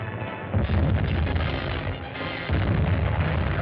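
A hand grenade explodes in a 1939 adventure serial scene: a loud, sustained roaring blast that swells, dips briefly and surges again, filling the clip with heavy low rumble and no talking.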